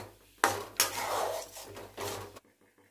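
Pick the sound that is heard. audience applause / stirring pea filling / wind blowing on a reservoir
stirring pea filling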